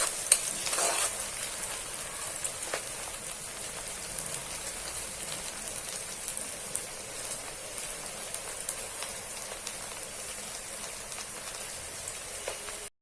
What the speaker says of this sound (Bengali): আমার নেহারিটা বাগার দেওয়ার জন্য আমি শুকনো মরিচ দিয়ে নিয়েছি।